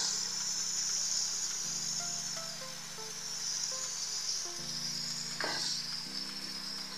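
Diced ash gourd sizzling steadily in a hot pan for a Bengali ghonto, a continuous close frying hiss with faint stirring and a low steady hum underneath, no voices.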